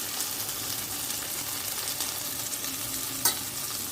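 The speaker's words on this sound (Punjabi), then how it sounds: "ਚੰਗੀ ਤਰ੍ਹਾਂ ਆਪਾਂ ਇਹਨਾਂ ਨੂੰ ਫਰਾਈ ਕਰ ਲਾਂਗੇ" Tomatoes fry in a pan for chutney with a steady, close hiss and sizzle that continues throughout, and a brief scrape of stirring near the end.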